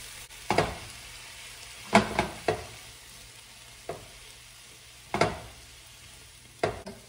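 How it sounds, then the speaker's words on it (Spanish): Vegetables for shrimp fajitas frying in a hot pan, a quiet sizzle broken by several sharp stirring scrapes and clatters at uneven intervals, with no voices. "ahora voy a agregar la verdura. Y la voy a dejar que se cocine de 6 a 8 minutos"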